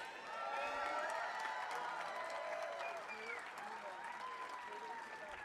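An audience at a law school hooding ceremony applauds and cheers, with steady clapping under whoops and shouted voices that carry through the whole stretch at a distance.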